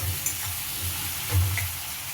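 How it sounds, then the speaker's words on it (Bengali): Chopped tomatoes stirred and frying in a little oil in a pan for egg curry, a steady soft sizzle with low scraping strokes of the spatula, close and continuous. "টমেটো দিয়ে বেশ কিছুক্ষণ নাড়াচাড়া করতেই দেখবেন টমেটো থেকে জল বেরিয়ে আসবে।"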